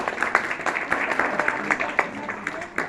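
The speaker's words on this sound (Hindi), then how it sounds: "इनके लिए पहले तो जोरदार ताली बजानी चाहिए" An audience at a school commemoration for Sarla Behn gives a round of applause, moderately distant clapping with scattered sharp claps, a voice briefly heard over it.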